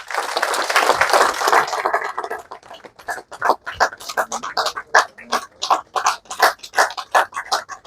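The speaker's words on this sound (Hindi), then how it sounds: "जोरदार तालियां नहीं रुकनी चाहिए।" Loud audience applause at a political welcome ceremony, dense continuous clapping at first that thins into rhythmic, evenly spaced group claps.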